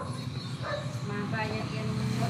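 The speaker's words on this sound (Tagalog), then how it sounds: "Ang aso." A dog barks a few times in short yips while people talk over it, the barks mixed into a busy indoor scene with constant conversation.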